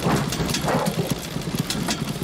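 A small ultralight plane motor idles in a film scene, giving a low, uneven, knocking chug that runs steadily and close for a couple of seconds with no voices over it.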